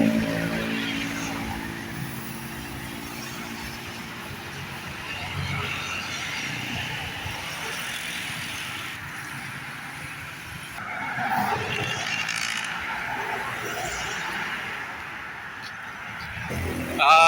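Vehicles rush past on a busy highway, tires hissing and engines swelling and fading, with a person talking over the traffic noise.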